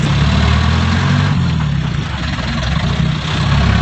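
A new Eicher truck engine idling, a loud, close, steady low rumble with constant vibration and no breaks.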